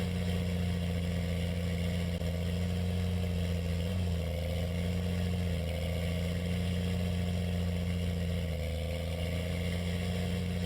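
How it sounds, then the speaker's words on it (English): In the Farming Simulator 19 game, a 7930 tractor's engine labors steadily up a hill, a loud, continuous mid-pitched drone with slight shifts in pitch and no talking over it. "I might need a bigger tractor to get up the hill."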